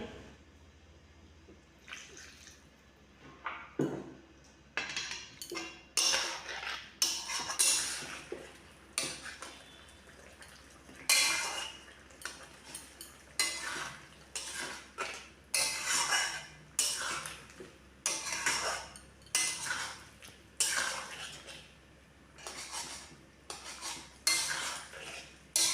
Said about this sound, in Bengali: এবার আমি জল দিয়ে 2 মিনিট আলুগুলো নেড়ে নেব।